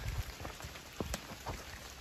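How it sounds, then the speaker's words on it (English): Rain dripping from trees onto the ground and gear along the Appalachian Trail, an irregular patter of close drops with a few heavier splats over a steady wet hiss. "It's getting water dripping down, but mostly from the trees."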